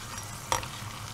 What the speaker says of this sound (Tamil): அப்படின்னா தான் நல்லா வறுபடும்